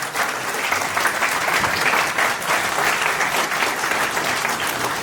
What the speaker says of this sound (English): Big applause to Bansalji.